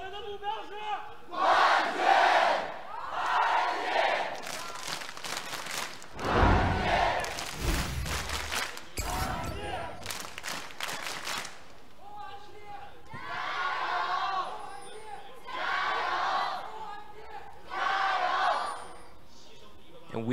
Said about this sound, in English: And we just heard from the RNG crowd